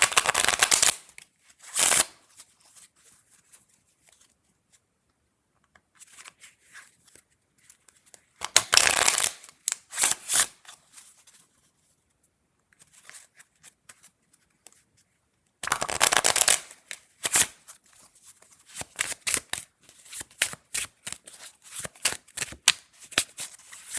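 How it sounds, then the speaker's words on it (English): Playing cards shuffled during a tarot reading, in three bursts of quick, crisp riffling and flicking separated by near-silent pauses, close and fairly loud, with no talking. "I'm gonna add a couple of playing cards to wrap up your reading."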